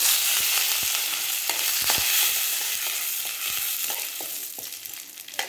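Curry leaves frying in hot tempering oil, a loud close crackling sizzle with sharp pops scattered throughout, with no voices.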